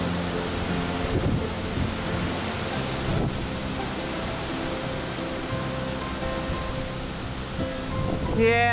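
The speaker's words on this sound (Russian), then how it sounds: "it's getting a bit windy" Strong wind on a bush walking track in New South Wales, Australia roars steadily into the microphone, a continuous broadband rush with occasional heavier gusts and buffeting.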